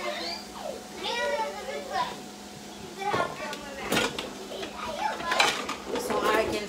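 Plates and a frying pan clink and clatter intermittently in a kitchen while hamburger steaks cook and adults and children talk nearby.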